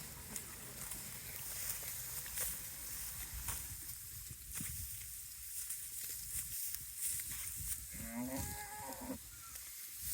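Cattle grazing in a farm field, with a soft steady rustle and tearing of grass close by; one cow lets out a low moo near the end.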